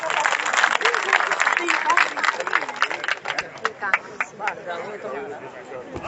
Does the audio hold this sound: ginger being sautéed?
no